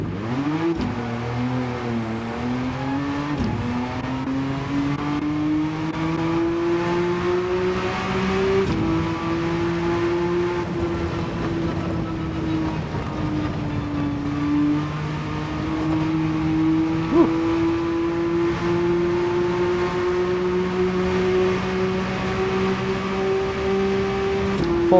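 A race car held at full throttle down a straight in Gran Turismo 7 on a partly wet track, its engine note climbing through a quick gear change and then holding a steady, loud high-revving drone.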